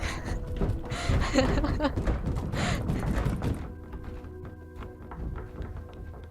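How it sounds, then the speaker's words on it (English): Wooden knocking and tapping sound effects from a video game, a dense run of hollow taps and thunks with some overlapping sounds, then a quieter sustained tone with sparse taps toward the end. "it sounds like they're just like knocking on random wood, like nonsensically"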